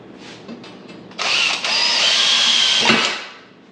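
A power drill drives a screw through a wood block, running loud and close for about two seconds with a brief hitch partway through, then winding down.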